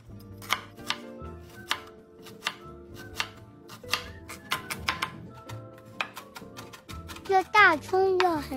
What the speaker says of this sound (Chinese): 然后再切碎